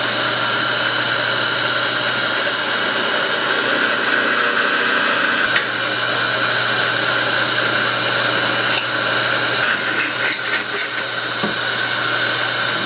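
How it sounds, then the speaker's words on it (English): A power drill bores lightening holes through a steel knife tang, a steady loud whirring grind that runs continuously with small shifts in pitch and pressure near the end. "then we'll drill the lightning holes just to lighten this tang up a little bit"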